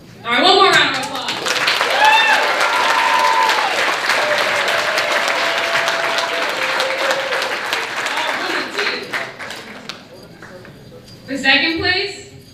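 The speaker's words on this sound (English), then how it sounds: "All right, one more round of applause." Audience applause at a middle school awards ceremony, with clapping swelling loud right away and holding steady for several seconds, then thinning out before a second short burst near the end; whistles and voices rise over the clapping.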